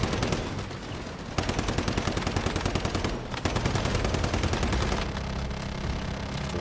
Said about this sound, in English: That sounds like a Gatling going down.